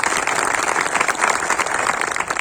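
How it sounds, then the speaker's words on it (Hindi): Steady applause from an audience welcoming a guest who raised a saffron flag on a 21-foot pole, dense clapping at an even level throughout with no talk over it. "ताली से इनका स्वागत करिए"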